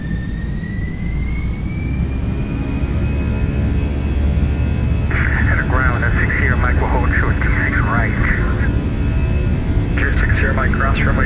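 A Toliss A319 departing in the X-Plane 12 flight simulator: a loud, steady jet engine roar with a rising whine, while air traffic control radio chatter comes in briefly over it.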